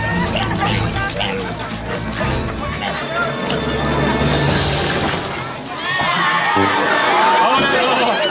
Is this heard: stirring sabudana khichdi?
no